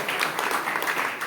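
A short, dense burst of steady applause fills the hall at a stotra singing program, brief and fairly loud with no voices on top.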